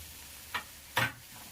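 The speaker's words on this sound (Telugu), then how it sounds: "ఇదంతా వేసుకున్న తర్వాత ఇలా కలయిదిప్పుకోవాలి." A spoon stirs boiled peas chaat just dusted with coriander powder, garam masala and chaat masala, making two short, soft scraping strokes against a quiet room background, with no talking.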